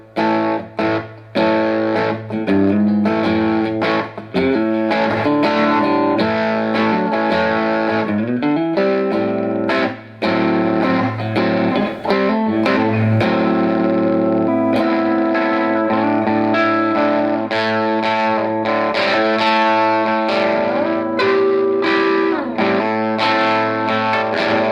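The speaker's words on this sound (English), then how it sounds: "Very low level distortion" Electric guitar plays through a Joyo US Dream distortion pedal set to low gain, with crunchy, barky staccato chords and sustained notes ringing out loud and continuous.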